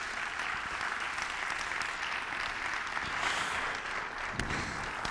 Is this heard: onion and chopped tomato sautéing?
no